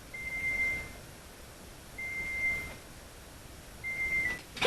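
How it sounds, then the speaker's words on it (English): A kitchen timer beeps three times at even intervals, each beep a clear high tone about half a second long, faint against a quiet kitchen during dandelion jelly canning. "the timer is about to go off"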